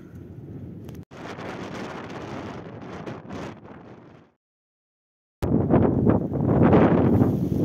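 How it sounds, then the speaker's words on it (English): Strong wind on the western edge of a peninsula in Iceland buffets the microphone in heavy, roaring gusts, dropping briefly to near silence before blasting back even louder. "it's super windy on the western edge of the peninsula"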